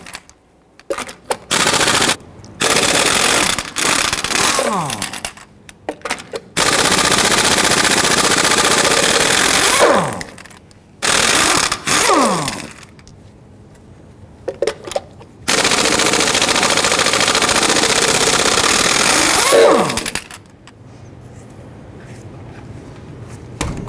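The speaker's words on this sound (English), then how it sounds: "Using a 22mm socket, we're going to loosen and remove our lug nuts" Impact wrench on a Toyota Tundra loosening lug nuts with a 22mm socket, loud close bursts of rapid hammering rattle repeated several times, separated by short pauses and quieter handling noises.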